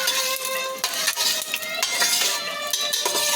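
Chana dal and urad dal roasting in oil in a pan for a mint and coriander chutney, stirred with a utensil: steady close sizzle and crackle with scraping clinks running throughout.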